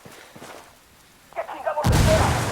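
A fragmentation grenade goes off in the tactical shooter Ghost Recon Wildlands, a sudden loud broadband blast that sustains a rumbling roar after quieter game sounds and faint voices beforehand.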